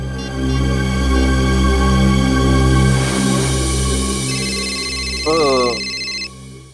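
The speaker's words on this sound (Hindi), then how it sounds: "अब इस वक्त किसका फोन आ गया?" A telephone rings with a warbling electronic tone over steady background music, starting late and sounding briefly before cutting off.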